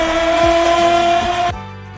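A soda can is worked to imitate a car engine, giving a loud, buzzing, engine-like drone that rises and shifts in pitch for about a second and a half before cutting off sharply into a faint tail.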